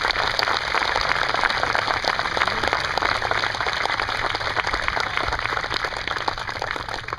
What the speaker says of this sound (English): Please give Drill Sergeant Mason and these soldiers a round of applause.